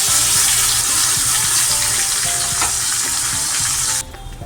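Ground spice paste and asafoetida fry in hot oil in a pan, a loud close sizzle that hisses steadily and then drops off suddenly near the end.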